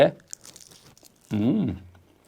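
Someone bites into Armenian lavash bread that is crisp in places and softer where less baked, giving a brief close crunch before a person speaks over it.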